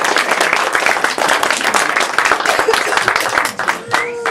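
Wedding guests at the speeches applaud the best man, a lively burst of clapping and crowd noise that swells and then tapers, with a voice starting up near the end.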